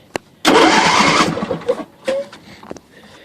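A John Deere engine cranks and catches with a sudden loud burst of roar, which settles within a second into sputtering, uneven running with brief surges and dips.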